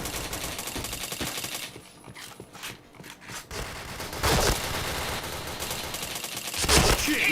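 Rapid bursts of gunfire from the first-person shooter Point Blank, with dense fusillade-like volleys and sharper loud shots toward the end, steady action audio throughout.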